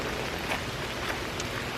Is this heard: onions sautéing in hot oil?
no